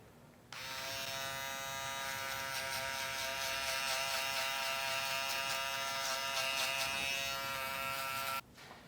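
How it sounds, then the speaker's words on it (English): A Wahl 5 Star Shaver Finale lithium-ion electric foil shaver buzzes steadily and loudly up close for several seconds, a constant high whirring hum that starts and stops abruptly. "I will use the 5-star shaver finale, lithium ion, for the super close skin shave."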